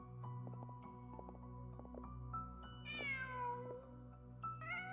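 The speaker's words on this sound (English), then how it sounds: "Just a cat." A cat meows twice in the video game Song of the Welkin Moon, a clear falling mew followed by a shorter, higher one, heard over a steady backdrop of sustained game music.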